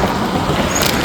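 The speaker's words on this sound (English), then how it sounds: "Sorry about the traffic noise" Road traffic passing on the Monona Lake Loop, a busy thoroughfare, heard as a brief steady roar of a car going by close at hand, with no talking.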